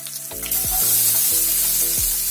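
Chopped onion and crushed garlic hit hot oil in a pan, letting out a loud, steady sizzle with a low tonal hum underneath, close up and without talk.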